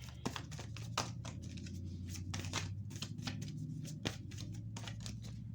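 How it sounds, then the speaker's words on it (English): Tarot cards are shuffled by hand close up, giving a steady run of soft riffling and flicking bursts with sharp snaps, heard alone without talk. "I'll go ahead and start doing some of the shuffling in the video."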